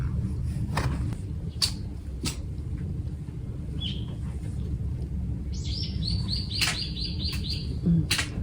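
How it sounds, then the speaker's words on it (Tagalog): A bird chirps and tweets at a bus stop in Japan: scattered sharp single chirps, then a quick run of repeated tweets over a steady low rumble of traffic. "It's a bird sound. Tweet, tweet, tweet, tweet, tweet."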